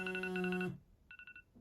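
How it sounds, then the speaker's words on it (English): An iPhone 5 alarm tone plays, a bright pulsing electronic melody with steady beeping notes that cuts off abruptly, followed after a short pause by a softer, fainter burst of the same repeating beeps. "That's the dreaded alarm that everyone doesn't like"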